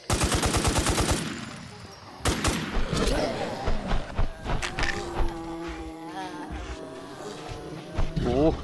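Rapid gunfire from a boss fight against a giant centipede boss (Slicer) in the survival shooter game NewZ, loud bursts of shots early on followed by scattered impacts and game effects, with someone talking excitedly over it.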